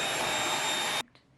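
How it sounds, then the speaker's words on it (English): A vacuum cleaner runs loud and steady while a bedroom is cleaned, then cuts off abruptly near the end, leaving near silence with a faint click. "So I basically vacuum."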